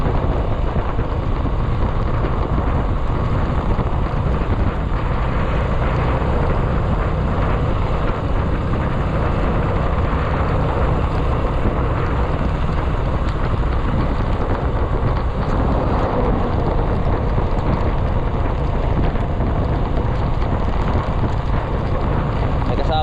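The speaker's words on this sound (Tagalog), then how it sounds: "May kasamang ambon. Ulan, ang hangin." Steady wind roars through the microphone outdoors with a constant broadband rush, carrying light drizzling rain, loud and unbroken throughout.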